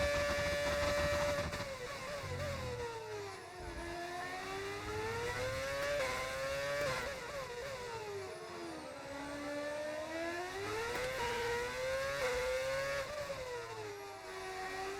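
Formula 1 car engine in a racing video game on the Singapore circuit, whining and rising and falling through upshifts and downshifts as the car brakes and accelerates through corners, steady and mid-level with no talking.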